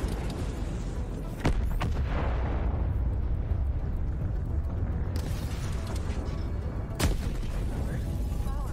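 Launcher explosions in a video game boom out as heavy blasts, with a sharp detonation early on and another near the end over a sustained, rumbling roar of battle noise.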